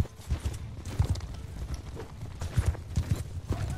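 Horse hooves clop in a quick, uneven galloping rhythm across open ground in Mount & Blade II: Bannerlord, moderately close with soft thuds and little else around them.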